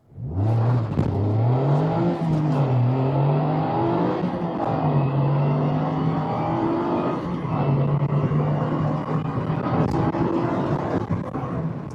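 A Mazda ND2 Miata accelerating from the driver's seat, engine pitch rising through gears with shift drops, loud and close steady revving over road noise.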